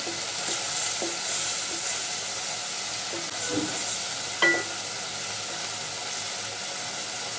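A hilsa fish head fries in a pan with a soft, continuous sizzle and a few light stirring clicks and knocks, one sharper tap near the end.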